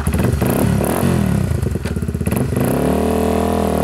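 A modified 2009 Yamaha TW200 motorcycle engine catches and runs, a loud, close, rough single-cylinder chug that settles into a steady idle with no talk over it.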